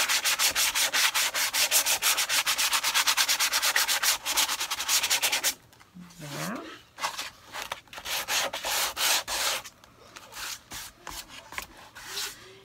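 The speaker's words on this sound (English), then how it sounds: "I'm just going to sand off the sides to get a little bit of that distressing" Sandpaper rubs rapidly back and forth along the painted sides of a wooden memo holder, a close, rhythmic scratching that gives way to slower, uneven strokes.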